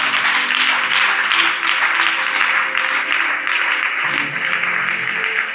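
A church congregation claps steadily for Jesus Christ, the dense applause sustained and fairly loud, with a low musical hum underneath.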